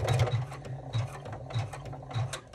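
A computerized embroidery machine stitching on a quilted piece held in a hoop on a frame, a steady close mechanical whirr with rhythmic clattering pulses roughly every half second, no voices.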